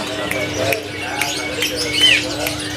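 Asian pied starling singing at a busy bird market, with short chirps, whistles and a rising clear note repeated over a constant electrical hum and soft background chatter.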